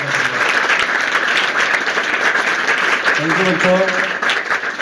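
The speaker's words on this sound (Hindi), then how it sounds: "सभी बच्चे एक बार फिर से तालियां बजा करके बोले बच्चों" Children applaud after a motivational talk at a school, a dense, steady wash of clapping that carries through the whole stretch, with a brief voice rising near the end.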